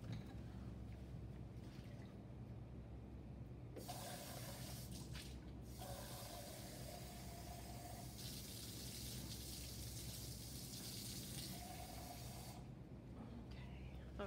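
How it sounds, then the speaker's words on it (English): Dirty paint-rinse water from a color-mixing session is poured out and the container refilled, giving hissing, gushing splashes in two long bursts that stand out over a steady low room hum. "I'm gonna clean my water out real quick."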